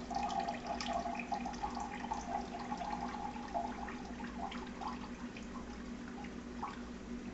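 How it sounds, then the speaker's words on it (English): Juice from canned mandarin oranges drains in a quiet steady trickle of liquid with faint splashing and dripping, close and soft, no talking. "we want to drain the juice and reserve the juice for our"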